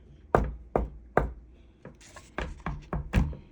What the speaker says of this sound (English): Soon there came another knock at the door.